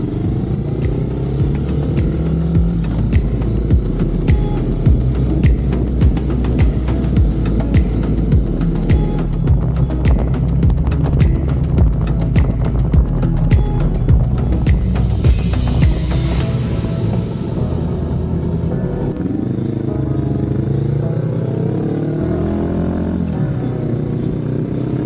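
A Honda SCL500 Scrambler motorcycle with a luggage rack is ridden, its engine droning and revving through gear changes under steady wind and road noise, loud and close throughout.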